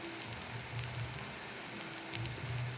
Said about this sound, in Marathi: ते फ्राय करूं घायलें हांवें.